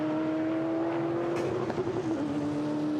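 A GT4 race car at Misano circuit approaching the final corner, its engine a steady sustained drone that shifts pitch as it lifts and changes gear midway, heard alone without commentary.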